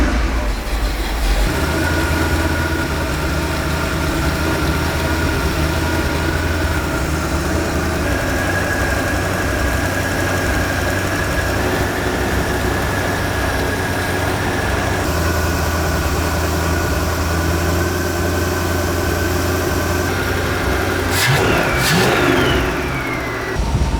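A freshly swapped big block V8 in a car idles with a deep, loud, steady rumble after its idle screws are adjusted, holding a constant note before a sharp clatter near the end.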